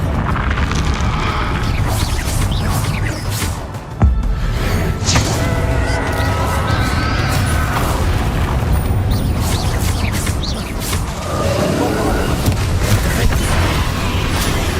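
Bombarda explosion spell in the video game Hogwarts Legacy, set in a long stretch of dense, loud rumbling and crashing, with one sharp blast standing out in the middle.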